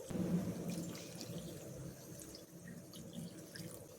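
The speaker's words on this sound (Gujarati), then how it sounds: "એની અંદર આપણે 2 ગ્લાસ પાણી નાખીશું" Water poured into a pot of dates, tamarind and jaggery for a sweet-sour chutney, a soft continuous splashing gush, fairly faint and close, with no talk.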